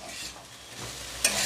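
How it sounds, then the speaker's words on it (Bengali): Chopped tomato for samosa filling is stirred in a hot frying pan, a close, steady sizzle with a brief louder hiss near the end as it is moved around. "হ্যাঁ টমেটোটা দিয়ে দিচ্ছি দিয়ে একটু নাড়াচাড়া করে"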